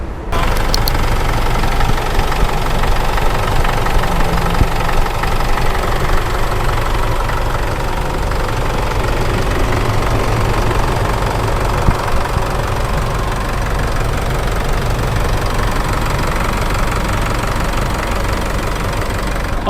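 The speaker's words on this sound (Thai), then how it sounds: "เดี๋ยวขออนุญาตให้ฟังเสียงเครื่องยนต์สักเล็กน้อย" A 2015 Isuzu D-Max 2.5 pickup truck engine idles steadily and loudly, a constant low rumble with a slight knocking beat and no voices.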